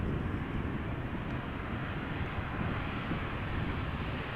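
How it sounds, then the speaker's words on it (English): A KLM Boeing 737-800 arriving at Amsterdam Schiphol on a crosswind approach gives a steady broadband jet roar, sustained and fairly loud throughout with no voices. "Boeing 737-800, KLM flight 1008 arriving from London Heathrow"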